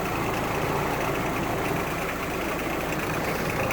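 A 1946 Willys CJ2A Jeep, recently started after sitting all winter with its PTO engaged, idles in a steady, loud, continuous rumble close by, with no talking.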